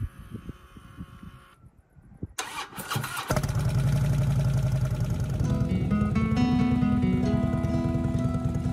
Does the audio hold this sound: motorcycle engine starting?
yes